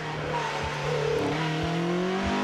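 A Clubman spec sports racing car climbs the Gurston Down hillclimb through the carousel, its engine revving loud and close with rising pitch through the gears and a sustained buzzing note.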